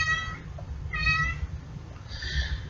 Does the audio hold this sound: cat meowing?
yes